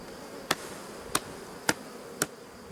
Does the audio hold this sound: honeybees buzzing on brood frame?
yes